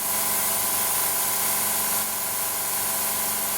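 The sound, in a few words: air compressor blowing air through laser air assist nozzle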